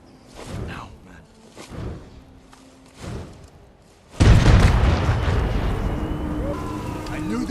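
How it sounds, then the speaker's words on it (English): A sudden loud fiery explosion in the Ghost of Tsushima video game bursts in midway, followed by a sustained roaring blaze, after a stretch of quieter low rumbles and thuds. "Look at that fire!"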